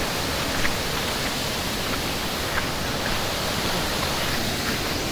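Chitrabhi falls at Kabbinale in monsoon roars as a steady, dense wash of falling water, close and loud, with no break or variation throughout.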